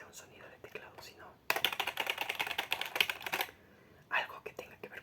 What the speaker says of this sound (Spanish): que no nada más sea un sonido de teclado